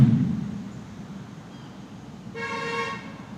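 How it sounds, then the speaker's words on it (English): A car horn on a road gives a single short, fairly loud honk against a low background rumble of traffic. "They get bored and they just honk their horns and act crazy"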